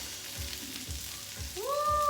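Garlic butter shrimp sizzling steadily in a hot pan with low crackling, soft fork movements and a rising tonal note near the end.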